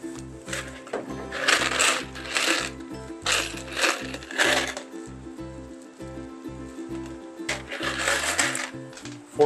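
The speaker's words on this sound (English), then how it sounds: "Tighten it down, tighten it. Tight, and then drive some screws in." A power drill drives screws into the wooden frame of an Adirondack chair in a DIY garage, with several short whirring bursts of the motor, rhythmic and close, starting and stopping between screws.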